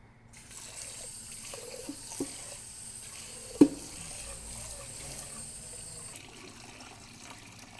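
Water running and splashing in a sink while rice grains are rinsed, a steady wet wash with a few clicks and a sharp knock partway through, no talking.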